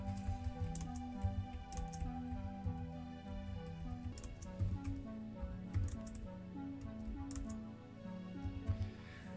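Typing on a computer keyboard while entering text into a shape in Google Slides, rapid irregular key clicks running steadily throughout, fairly close and moderately loud with no talk.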